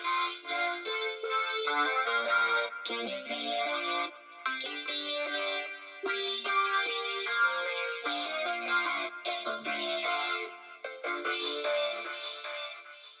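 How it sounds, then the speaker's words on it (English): A vocal track runs through an Ableton vocoder side-chained to a synth, giving a robotic, chordal, sung texture in sustained phrases with brief gaps, loud and up front with no other voices. "I slapped a vocoder on it and side-chained that synth as an input"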